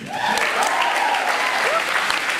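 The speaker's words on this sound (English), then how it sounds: "Round of applause for those guys on the team." A commencement crowd applauds the football team, sustained loud clapping mixed with cheers and a few whoops rising above the steady wash.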